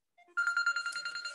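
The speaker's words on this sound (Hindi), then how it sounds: "ये ओम मनजिंदर सिंह जस्सा का फोन है।" A mobile phone rings during an online class: a short, faint electronic ringtone of quick repeated beeping tones, heard alone.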